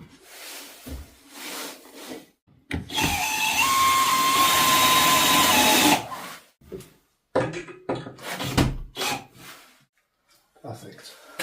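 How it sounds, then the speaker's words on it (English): Power drill driving a fixing through framework into a wooden stud, one sustained whirring, grinding burst of about three seconds at close range, with rubbing and handling noises and brief talk before and after. "Now I can get a fixing through here and the back side into that stud."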